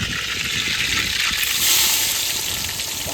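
Mustard oil heated in a pan during an outdoor meal cooked after crab catching, sizzling loudly and continuously with a steady hiss that swells briefly midway.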